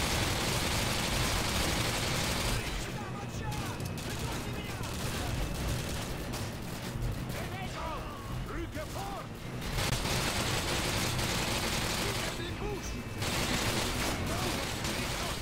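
Rapid gunfire in the video game Call of Duty Modern Warfare 2 rattles in dense, loud bursts, with brief lulls and mechanical clatter between volleys.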